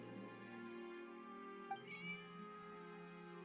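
A short cat meow from a video game rises over steady game music and ambience, brief and moderately clear partway through.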